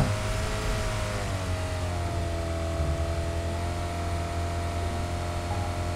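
A car speeding in the PUBG Mobile video game, its engine holding a steady droning whine with faint wind noise throughout, no voices.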